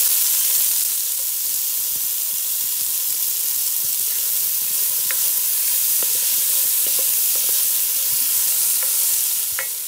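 An onion fries in a cast-iron potjie pot over a wood fire, giving a steady, even sizzle and hiss throughout, with faint occasional clicks and no talking.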